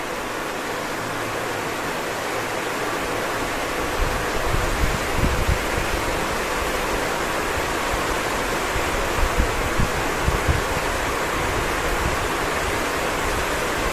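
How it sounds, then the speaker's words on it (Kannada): Heavy rain pours just outside a window at night, a loud, dense and unbroken hiss of falling water that holds steady throughout, with occasional low thumps beneath it. "ಕಿಟಕಿ ಕೈ ಹಾಕಿ ಮಳೆ ನೀರು ಹಿಡಿಬೇಕು"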